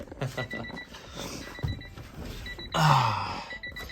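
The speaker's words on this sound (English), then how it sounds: "Even has that factory Honda beeping." A Honda Civic's factory electronic chime beeps in a steady repeating pattern at moderate volume, with engine and handling noises around it.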